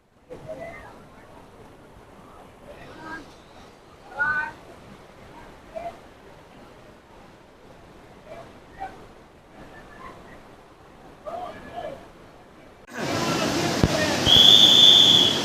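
Kalu waterfall on a monsoon trek: quiet voices talk at a distance for most of the stretch, then a loud, steady broadband rush of falling water swells in and dominates the final seconds.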